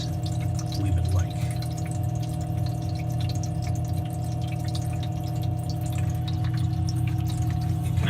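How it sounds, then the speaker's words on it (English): A small water pump runs in an ice-making setup, giving a steady, smooth, continuous hum with a faint watery trickle, close by and unbroken. "You can actually see the shaft of the water pump right here. It's moving pretty quickly."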